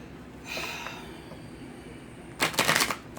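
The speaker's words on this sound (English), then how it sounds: "I'm struggling with these cards, y'all." Tarot cards are shuffled by hand in two bursts of riffling and flicking, a short soft flutter near the start and a louder, busier shuffle toward the end, close and quiet otherwise.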